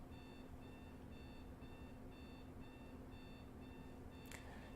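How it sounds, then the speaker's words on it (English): A household alarm clock beeps in short repeated bursts somewhere in the background, faint and steady beneath a constant hum, during a baseball game broadcast. "Sorry if you guys can hear that alarm going off in the background."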